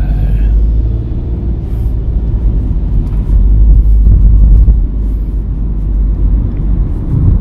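Car in a Uijeongbu driving-test road course pulling away after being put into gear, a steady low engine rumble throughout with no distinct rev change, heard from inside the cabin.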